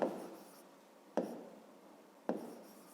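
A pen scratches across paper in three separate quick strokes, each starting with a sharp onset and fading, quiet and close with no talking.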